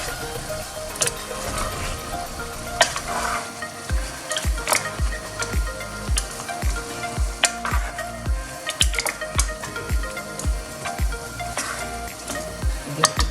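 Chicken curry with chopped onions sizzles steadily in a pan while a spoon stirs through it in a repeated, rhythmic series of close scraping knocks, with no talking.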